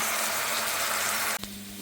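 Sliced onions fry in hot oil for a ghee rice garnish, giving a close, steady sizzling hiss that dips briefly near the end, followed by a single clattering knock.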